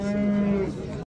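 A cow at a livestock market lets out a single loud, close moo lasting about a second, ending abruptly.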